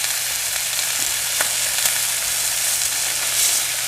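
Sausage patties fry in a pan, giving a steady close sizzle with a few soft crackles and faint stirring clicks throughout, and no talk.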